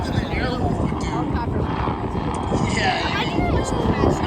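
An aerobatic helicopter flies stunts at the 2025 Cleveland National Airshow, its rotor throb and engine whine droning steadily overhead while people talk nearby.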